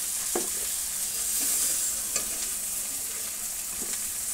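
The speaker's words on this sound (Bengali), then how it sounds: "কাঁকড়াগুলো ভাজা হয়ে গেছে, এখন নামানো হবে।" Crabs fry in a village kitchen, a continuous bright sizzle with occasional scrapes and stirring clicks of a spatula against the pan, close and steady throughout.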